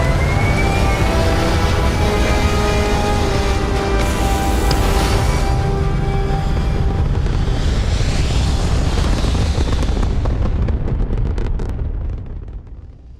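A spaceship lifts off in the video game Starfield with a loud, sustained roar and rising whine of engines that build, then slowly fade away in the last seconds.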